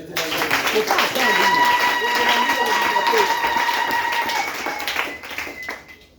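A church congregation applauding, heard as dense, continuous clapping mixed with voices and cheering that swells, holds for several seconds, then fades.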